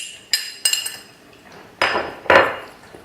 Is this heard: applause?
no